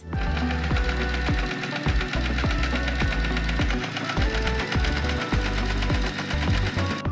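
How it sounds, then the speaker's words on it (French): A sewing machine stitches around the edge of a round fabric pet basket for a cat or dog, seam 1 cm in: a steady, loud, rapid mechanical needle clatter running continuously with brief rhythmic dips. "je vais coudre tout autour à 1 cm en laissant bien évidemment mon ouverture de 15 cm"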